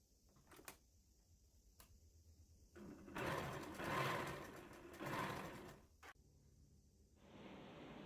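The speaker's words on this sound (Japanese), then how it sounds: "2 つのセットを縫い合わせて40センチ幅になるようにします。" A sewing machine stitches two sets of fabric pieces together into a 40 cm wide strip, its motor running in a steady close whir for about four seconds between brief clicks and handling of the fabric.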